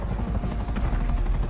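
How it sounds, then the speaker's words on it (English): A helicopter in GTA 5 Online flies close overhead as a loud, dense rotor thrum with rapid, regular chopping pulses and no voices. "That is a helicopter,"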